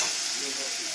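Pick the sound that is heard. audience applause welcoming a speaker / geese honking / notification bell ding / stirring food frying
stirring food frying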